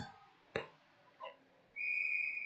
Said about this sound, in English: Loose puck squirts over to Knuckle, who covers for a whistle.